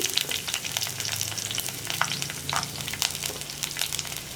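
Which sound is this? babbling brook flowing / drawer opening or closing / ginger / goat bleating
ginger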